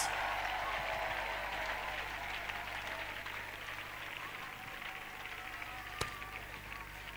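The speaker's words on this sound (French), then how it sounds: "Ovations to Jesus." A church congregation applauds during a prayer gathering, producing a soft, continuous patter of clapping with a murmur of voices, fairly distant and steady, with a single sharp knock near the end.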